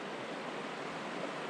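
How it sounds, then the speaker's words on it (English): Shallow river rapids moving steadily with a broad, even rush of water, continuous and fairly close, with no talk over it. "Got a bit of moving water behind me here."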